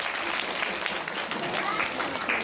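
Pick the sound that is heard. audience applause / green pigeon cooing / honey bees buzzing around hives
audience applause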